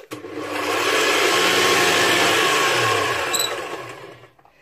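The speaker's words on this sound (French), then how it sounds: "Je vais ajouter une demi-cuillère à café de sel. Je vais un petit peu mélanger." An electric mixer whirs steadily as salt is mixed into doughnut batter with sugar, a loud continuous motorized hum that ramps up, holds for several seconds, then winds down.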